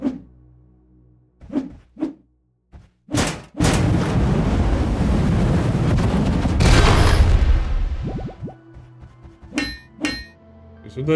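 In the video game Dysplaced, a loud blast follows a few sharp thuds and hits, then a sustained rumbling roar that tails off into scattered debris clatter and clicks, with no voices.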